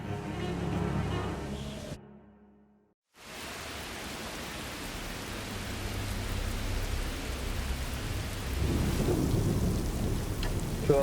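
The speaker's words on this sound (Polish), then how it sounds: "Pada deszcz." Steady heavy rain from Hurricane Katrina pours down with a rumble of thunder, briefly cutting out before the downpour resumes and grows louder.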